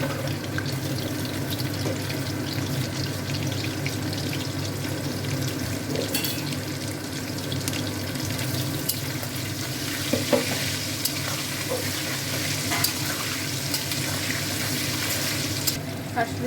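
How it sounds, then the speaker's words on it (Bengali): Potatoes fry in hot oil with salt and turmeric, a loud, dense, unbroken sizzle, with faint clicks and a little running-water noise underneath. "আর আমরা আলু ভেজে নেব।"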